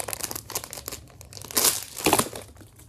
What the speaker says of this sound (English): we got all of the candies, and so this is gonna take a while to unwrap